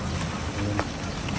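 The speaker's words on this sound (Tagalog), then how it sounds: "Malakas pa rin yung ulan." Heavy rain falls steadily in a flooded area after days of downpour, a dense, even hiss close by with no pauses.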